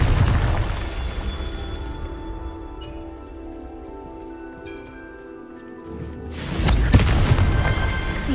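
A Confringo blasting spell in Hogwarts Legacy erupts as a sudden booming explosion after a quieter stretch of ringing magical tones, the blast loud and close near the end.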